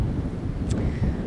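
The Cers, a westerly wind, blows over a vineyard in steady low rumbling gusts that buffet the microphone, with no voices.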